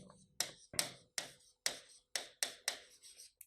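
Terah Taali small metal cymbals struck together in pairs, as played for the seated Kamad women's dance: eight or nine sharp, close clicks in a quick, slightly uneven rhythm, each decaying fast, with nothing else heard.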